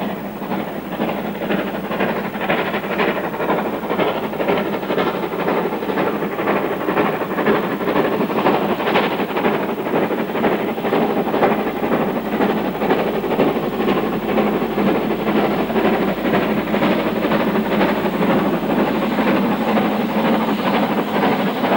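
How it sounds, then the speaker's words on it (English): Steam locomotives on the North Yorkshire moors work hard up a steep three-mile gradient, making a continuous loud chuffing roar with hiss and rhythmic wheel and rail noise throughout. "sounds as the locomotives attack the bank."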